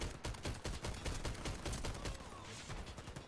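Rapid automatic gunfire from an engineer in the shooter game Warface, a dense run of loud, evenly spaced shots lasting throughout, with no talk.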